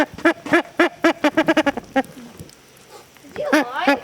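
A freshly slaughtered backyard chicken gives a run of sharp, rubber-toy-like squeaks as its chest is pressed, about ten quick close honks, then a pause and a couple more squeals at the end.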